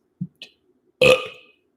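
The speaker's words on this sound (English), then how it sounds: "I can burp on command." A person burps on command: two small throat clicks, then one loud, drawn-out burp lasting about half a second, close and alone in a quiet room.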